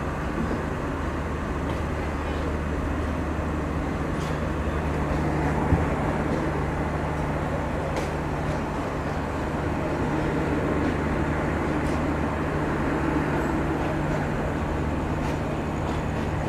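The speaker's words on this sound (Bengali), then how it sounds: "আমাদের ট্রেন ছেড়ে দিল পোড়াদাহ জাংশন থেকে" A Shimanto Express passenger train runs at night after leaving Poradaha Junction, heard from inside as a steady loud rumble with low hum and faint periodic rail clicks, continuous and unbroken throughout.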